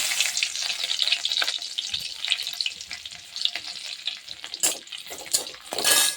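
Steady crackling sizzle of garlic frying in oil, close and continuous, with occasional scrapes of stirring.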